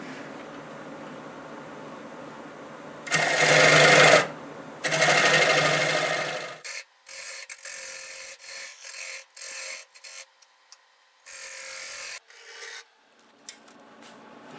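Turning tools working a Siberian elm bell blank on a lathe, with a negative rake scraper smoothing a tenon: two loud, sustained grinding passes give way to a series of shorter, intermittent scraping bursts.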